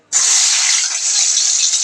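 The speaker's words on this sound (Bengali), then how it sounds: "আলুটা ভাজা হচ্ছে" Potatoes hit hot oil in a wok, bursting into a loud, steady sizzling hiss that starts abruptly and holds close and unbroken, with no talking.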